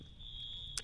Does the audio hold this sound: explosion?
no